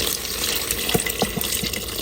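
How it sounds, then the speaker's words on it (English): Broth mixture poured into a CHEF iQ smart cooker makes a steady liquid splashing and trickling sound, close and continuous, with a few soft clunks. "I'm gonna pour some in"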